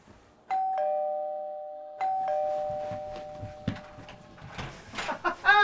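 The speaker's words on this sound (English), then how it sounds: "how many times am I going to ring the doorbell?" A doorbell chimes twice in a clear two-tone ding-dong, each ring sustained and ringing out, followed by shuffling and quiet movement with a voice starting at the end.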